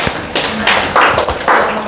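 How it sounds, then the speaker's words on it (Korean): A church congregation claps in several short surges of applause, close and fairly loud, each burst fading briefly before the next. "우리 박수 한번 합시다."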